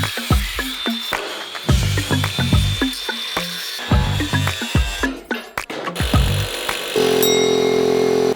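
Power tool work on a truck's leaf spring U-bolts: a grinder cuts through the bolts in bursts of harsh grinding with clanks between cuts, then a steady loud whine near the end, close and unaccompanied by talk.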